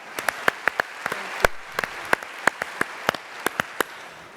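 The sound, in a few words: audience applause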